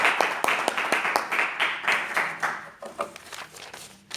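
A church congregation at a Bible study breaks into applause, a dense patter of many hands clapping together that swells briefly and then thins out and fades over a few seconds.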